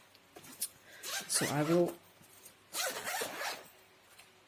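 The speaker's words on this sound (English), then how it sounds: "open this case so that you can have a look" A zipper is pulled open on a pencil case holding colored pencils, several quick zipping strokes heard close up in short bursts while a person talks over them.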